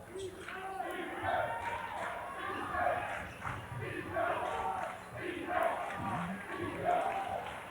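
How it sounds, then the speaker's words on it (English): A high school basketball crowd in a gym rises in excited, swelling cheers and shouts, with bursts of noise coming in waves, and an announcer talking over it. "Crowd starting to get into it a little bit."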